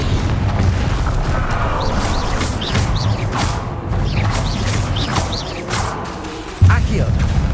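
A Confringo fire spell explodes during combat in the video game Hogwarts Legacy, amid dense battle noise of whooshes and rumbles, with a sudden louder burst near the end.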